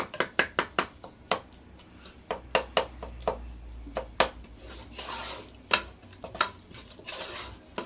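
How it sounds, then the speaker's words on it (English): Onion, tomato and spice masala cooking in a pan on a slow flame, with a spoon knocking and scraping the pan in quick irregular strokes over a soft sizzle, close and without talk. "But make sure in between you keep on giving a continuous stir so that the masala doesn't stick to the bottom of the pan."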